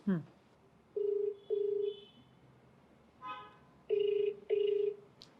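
Telephone call being placed, with a short dial blip followed by repeated steady electronic ringback tones in pairs, clear and close, no talk over them.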